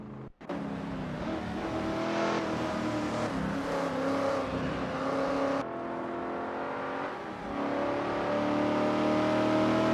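AI supercars roar around Weatherfield Speedway in a racing game, with a continuous loud engine drone that rises and shifts in pitch as the cars rev and accelerate, and briefly drops out before surging again.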